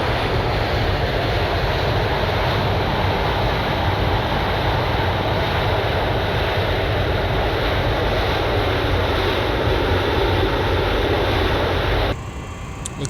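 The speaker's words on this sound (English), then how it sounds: "this MD-80 is actually working correctly today" Steady broadband roar of MD-82 jet engines in cruise flight in the X-Plane 11 simulator, continuous and loud throughout with no talk, dropping away sharply near the end.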